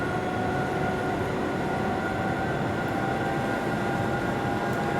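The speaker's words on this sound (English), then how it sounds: "Skeptic says the sounds of trains late at night is really cool." A train in the Train Sim World video game rumbles steadily with a constant low roar and faint tonal hum, continuous and fairly loud, with no talk over it.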